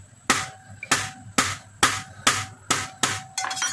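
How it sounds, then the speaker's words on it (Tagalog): Seven sharp, evenly spaced thuds of boiled green olives being pounded on a hard surface to crack them open, each a crisp knock with a short ringing tail. "So ito po, pinupukpok po ito"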